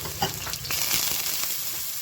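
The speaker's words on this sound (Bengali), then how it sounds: "এর মধ্যে দেবো এক ফোটটা তেল সাদা তেল দিলাম এবার একটু জল দিয়ে দেবো" Oil and a splash of water sizzle in a hot non-stick pan before chakli pitha batter goes in, a steady close crackling hiss with no talk.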